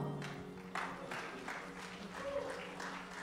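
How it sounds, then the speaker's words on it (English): A church crusade congregation claps in a loose, continuous patter of hands filling the hall, with scattered voices and murmur mixed in underneath. "I don't know if you are clapping for your landlord or you are clapping for your neighbor."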